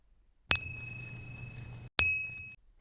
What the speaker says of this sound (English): Cymbals are percussion instruments. We tap them to make a loud sound.